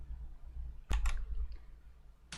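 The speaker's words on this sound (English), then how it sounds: "we're gonna move on to the next sign, which I am going to shuffle" Tarot cards are shuffled by hand in a quiet room: a short, crisp riffling clatter in the middle, followed by a few faint card taps.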